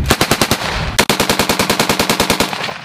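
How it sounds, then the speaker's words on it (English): Sustained machine gun fire on a live-fire training range, loud and close, with rapid regular bursts of shots, a brief pause near the middle, then another steady rattling string of rounds. "You're shooting at building 3 and 5 and whatever's out there"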